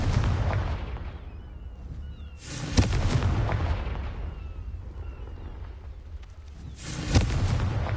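Confringo spell explosions in the Hogwarts Legacy video game, two booming blasts each followed by a rumbling roar that fades, loud and full, with no talking over them.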